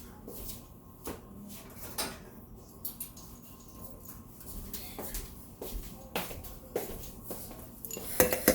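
Light metallic clinks and taps as a lid is placed on a pot of simmering lima beans, a few sharper clanks near the end, in a quiet kitchen.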